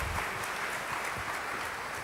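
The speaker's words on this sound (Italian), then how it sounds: "chiedo un applauso per i nostri ospiti" A conference audience applauds guests being welcomed at an academic study meeting, with steady dense clapping filling the whole moment at a moderate, even level.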